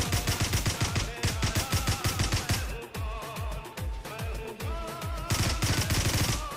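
An M16 rifle firing in a video game, sustained rapid automatic bursts in a steady staccato rhythm, loud and close, with short pauses between strings of shots.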